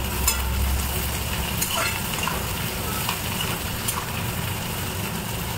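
Chillies drop into hot oil and fry with a loud, steady sizzle and crackle that continues unbroken throughout, with faint stirring clicks.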